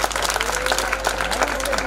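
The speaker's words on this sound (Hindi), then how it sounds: "आप इसे आशीर्वाद दें, तालियां बजा के" Audience clapping at a live sai bhajan concert in Delhi, given for a singer's young son: a steady, dense patter of applause filling the whole short stretch, fairly close and even.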